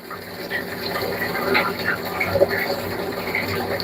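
Water pouring and churning as an aquarium tank is refilled, a steady continuous rush of liquid with a few brighter splashes, moderately loud and heard without talk.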